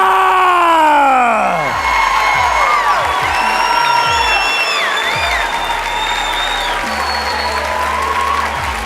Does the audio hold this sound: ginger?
no